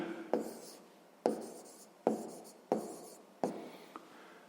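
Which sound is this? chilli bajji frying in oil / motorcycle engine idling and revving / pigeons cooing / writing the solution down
writing the solution down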